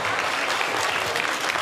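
Guests at a New Year party led by an entertainer give a continuous round of applause, thick and even, close by and steady for the whole stretch.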